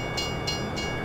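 A train at a grain pickup station in Farming Simulator 17, giving a steady rumble with three brief bright hissing or squealing bursts at regular intervals and no talk.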